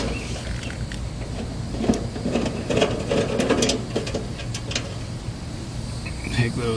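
Screws come out of an electrical panel cover during a heat pump job. Close mechanical whirring and clicking from a driver come in short bursts that rise and fall, over faint room noise.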